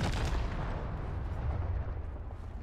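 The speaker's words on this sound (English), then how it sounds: "Nebula 5 bombers detonated in the area." Nebula V bomber explosions in Call of Duty Warzone on Caldera, a deep rolling blast rumble that decays over a couple of seconds, heavy and distant.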